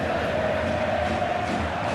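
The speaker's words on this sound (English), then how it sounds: "You can hear the annoyance in the crowd." A frustrated football stadium crowd in EA FC 26 murmurs and groans in a steady, dense roar that holds loud and unbroken throughout.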